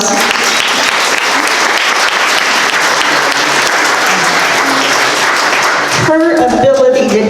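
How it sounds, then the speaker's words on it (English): Loud, dense applause from a Veterans Day ceremony audience fills the room steadily for about six seconds, then breaks off into a brief burst of other sound at the end. "Let's give Jolene a round of applause."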